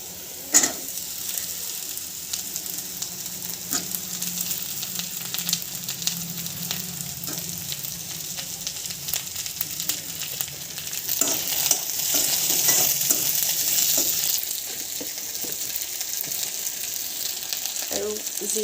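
Potatoes with browned onions and ginger-garlic paste fry in a pan, giving a steady loud sizzle with scattered spatula scrapes and knocks as they are stirred, and a brief spell of stronger hissing partway through.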